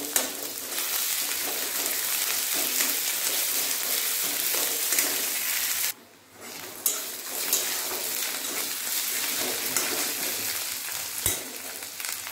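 Onion with ginger, garlic and green chilli paste fries in a pan for a fried-egg curry, giving a steady, loud, close sizzle with stirring that briefly drops away around the middle before resuming.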